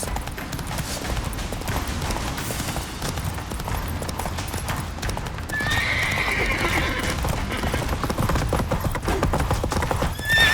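Geralt's horse Roach galloping in The Witcher 3 video game, a steady, loud clip-clop of hooves running throughout, with a neigh partway through and other game sounds mixed in.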